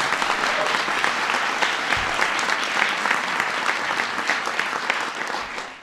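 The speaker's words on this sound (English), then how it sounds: "give Nancy a big round of applause" Audience applause for Nancy, a refinery worker from Pennsylvania, at a presidential event on overtime pay; steady, dense clapping from a large crowd fills the whole stretch at close, even loudness.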